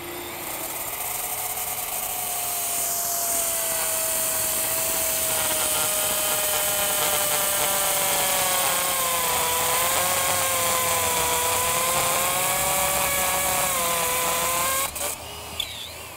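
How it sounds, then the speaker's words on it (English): A standard hammer drill fitted with a diamond bit bores into a paver, a loud, steady high-pitched grinding whine with wavering pitch that runs continuously for about fifteen seconds before cutting off abruptly. "Standard hammer drill. Diamond bit."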